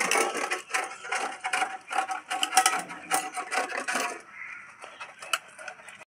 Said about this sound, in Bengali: আমটা এখন আমি ঘষে নেব